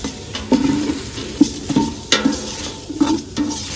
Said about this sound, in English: make sure you move around the chunks so that way we know all of that is cooking in the oil